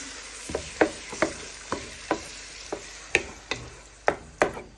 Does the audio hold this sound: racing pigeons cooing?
no